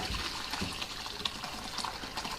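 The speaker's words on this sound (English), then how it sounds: "I'm going to strain it to a bowl so I can take the whey and give it to the hog." Whey from homemade cottage cheese pours through a strainer into a bowl, a steady close splashing, gushing stream of liquid that runs without a break and has no talk over it.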